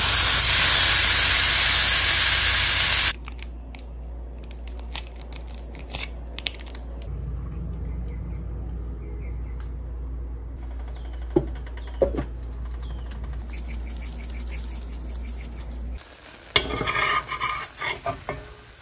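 Burgers fry in bacon grease in a pan, giving a loud, steady sizzle at first, then a quieter crackle with occasional stirring clicks and a louder spatter toward the end.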